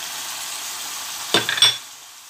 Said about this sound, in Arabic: الدجاج ديالي هو بدا كيتشحر، دابا غادي نضيف عليه البصله باش تشحر معاه